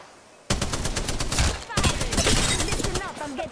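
Dense, sustained gunfire erupts suddenly in an Apex Legends match, rapid overlapping bursts that fill the soundscape almost nonstop, loud and close, with a short gap midway before the shooting resumes.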